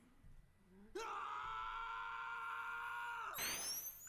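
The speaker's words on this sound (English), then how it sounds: "Suddenly, Mizuki screams." Mizuki, a character in the game DRAMAtical Murder, lets out a long, loud agonized scream that holds steady for a few seconds and then breaks into a rising, strained shriek.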